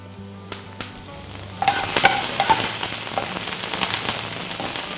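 Shallots, dried red chillies and curry leaves frying in a pan for green pea kurma: quiet clinks at first, then a loud, steady sizzle bursts up as the chillies and leaves hit the hot oil, crackling continuously.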